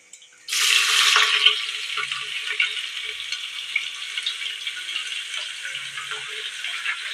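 Chopped onions, four of them, drop into hot oil in a pan for tomato rice and break into a loud, steady sizzle that settles into a continuous close-up hiss with faint scraping.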